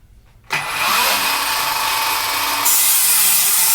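A Ridgid 18V cordless 7-1/4 inch miter saw spins up abruptly and cuts into wood with a loud, sustained whine that shifts in pitch as the blade bogs down and stalls, close and alone.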